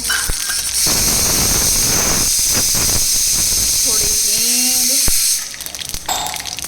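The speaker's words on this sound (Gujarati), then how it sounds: "तल बहुत तड़तड़ हो रहा है" Mustard seeds and cumin crackle and spit in hot oil for a handaar batter base, a loud steady hiss with dense popping filling most of the stretch, while a voice speaks over it.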